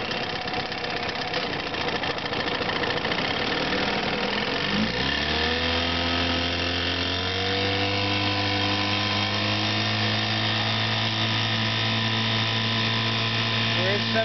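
A 1955 Johnson CD-12 5.5 hp outboard motor runs loudly and continuously, revving up after a few seconds and then settling into a steady, buzzing drone with a knocking edge.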